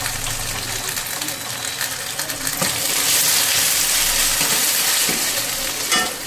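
Onion and garlic paste frying in oil for a Punjabi-style kofta curry, a loud, steady sizzle with scraping stirs and occasional utensil clinks throughout.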